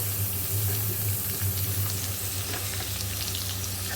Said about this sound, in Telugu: ఇప్పుడు మనం కట్ చేసి పెట్టుకున్న టొమాటో ముక్కల్ని వేసుకుందామండి